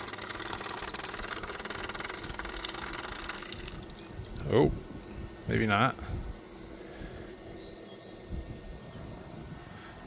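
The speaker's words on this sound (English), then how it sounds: "You can still hear water running, so it's still going." Water runs steadily through a 360 Rain sprinkler hose as it fills under pressure, a continuous rushing hiss with a brief voice and a couple of short gurgling bursts midway.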